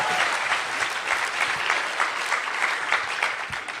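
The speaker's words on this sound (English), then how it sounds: "let's hear it for Paul, everybody" An audience claps for a storyteller at a live storytelling event at The Moth, giving steady, dense applause from a seated crowd that holds throughout the short stretch with no talk over it.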